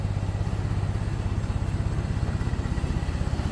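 A 1924 Ford Model T engine runs at a smooth, even idle, close and steady with a regular low rhythmic chugging pulse and light mechanical clatter throughout.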